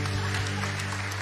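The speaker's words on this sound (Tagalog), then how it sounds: "Isa pa pong palakpak sa ating pong Diyos." A church congregation at a midweek worship service claps together in a short burst, a dense patter of many hands heard over a low steady hum.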